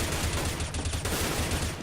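Rapid automatic gunfire in the video game CS GO, a dense continuous burst of shots filling the whole moment, loud and close with no pause.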